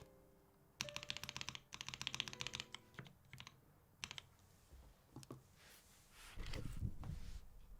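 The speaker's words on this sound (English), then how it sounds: "let's do one more typing test" Fast bursts of key clicks from a prototype Chimera mechanical keyboard being typed on up close, rapid clattering runs with short pauses, ending in a few scattered thumps.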